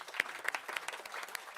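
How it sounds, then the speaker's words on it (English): Small group applause in a room as interns at a mayoral health care event clap for themselves, scattered, fairly quiet claps with distinct individual hits. "I want the interns to give themselves a round of applause"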